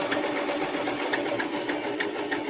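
A sewing machine stitches hoodie fabric with a steady, rapid mechanical chatter, close by and moderately quiet, running continuously without voices.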